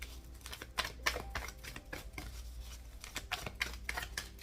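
A deck of tarot cards being shuffled by hand, with a string of crisp, papery flicks and soft slaps in uneven bursts, close and fairly quiet, with no voices.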